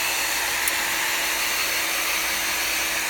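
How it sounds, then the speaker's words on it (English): A hair dryer blows close by, a loud, steady rushing whir that holds constant and unbroken from start to finish, with no speech over it. "when you start with a hairdryer, just, like place a hand down and then use it and you'll probably be fine."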